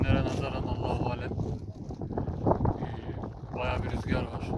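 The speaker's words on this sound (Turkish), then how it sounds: "bayağı bir rüzgar var." Wind blows steadily outdoors on a cold, chilly night under a mostly clear sky, a broad rushing noise with gusting swells that stays fairly loud throughout.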